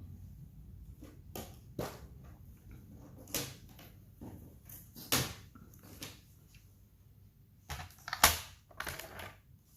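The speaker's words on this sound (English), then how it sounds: "So I'll just grab the trimmer for that." A paper trimmer slicing cardstock, a series of short sharp cuts and clicks spaced irregularly, fairly quiet and close with no talking.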